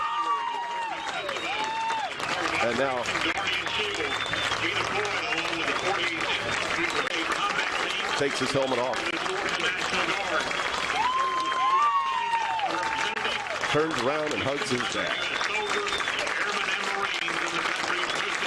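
A crowd at a Shorter vs. West Alabama college football game applauds steadily from the stands, a broad sustained clapping wash heard under a commentator talking over it.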